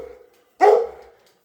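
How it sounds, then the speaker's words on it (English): A single sharp dog bark rings out close by after a moment of quiet, with a faint voice trailing off just before it. "There's a doggy and he's being loud"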